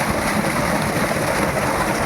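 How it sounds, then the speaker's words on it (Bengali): Water gushes from a pipe fed by two solar-powered motor pumps, a 5 horsepower and a 2 horsepower unit running off sixteen panels, as a dense, even, loud rushing roar with no voices. "প্রচুর পানি দিচ্ছে।"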